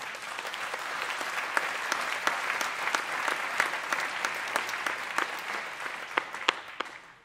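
A conference audience at an agile keynote applauds together for several seconds, a steady, fairly close wash of many hands clapping with distinct individual claps popping out, fading at the very end.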